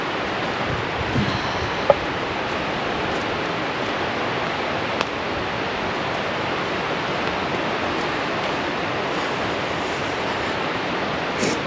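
Broadhead Creek flowing through Paradise Price Preserve in the Poconos, a steady, full rushing wash of water that fills the whole stretch without letting up, with no voices.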